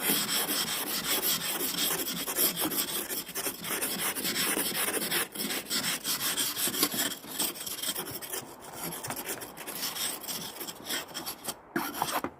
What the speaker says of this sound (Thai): ก็จะขูดอย่างนี้ก็จะขูดอย่างนี้นะคะ